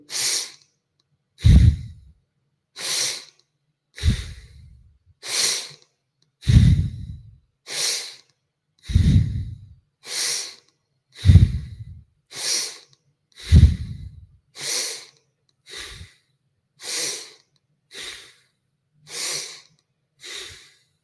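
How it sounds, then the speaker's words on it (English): Deep breathwork breaths repeat in a slow steady rhythm, each a loud, close airy inhale or exhale with pauses between, about sixteen breaths in all with no speech. "Inhale, exhale on your own."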